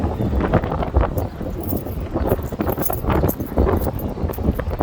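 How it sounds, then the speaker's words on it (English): Gusty wind buffets the microphone in irregular bursts, a rough, roaring rush that rises and falls without any talking. "thank God, it's actually windy."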